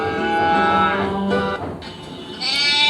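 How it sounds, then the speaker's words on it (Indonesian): A recorded goat bleats in drawn-out, wavering cries, played back loud and clear during a classroom lesson on animal sounds, with no talking over it. "Ini bunyi kambing."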